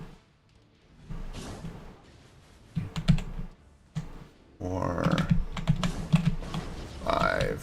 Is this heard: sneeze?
no